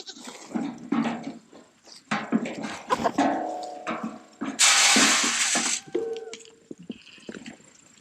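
Goats bleat repeatedly at feeding time on a homestead, several calls overlapping near and far, mixed with clanking, rustling and a sharp hissing burst partway through.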